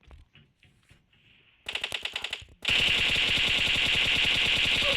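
Video game gunfire: faint scattered clicks and talk-like sounds, then a rapid automatic burst, then a louder, denser sustained stream of machine-gun fire.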